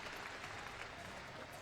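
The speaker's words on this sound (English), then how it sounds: "After a great round of applause from the crowd" A crowd applauding at an archery tournament, the Vegas Shootdown 2017, producing dense, continuous clapping at a steady level throughout.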